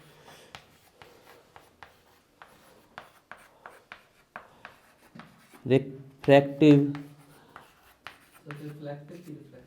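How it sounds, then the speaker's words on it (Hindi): Someone writes on a board during a chemistry lesson, making a run of quick, faint scratching strokes, followed by a person talking loudly close by. "यही लिखते जा रहे हैं हम"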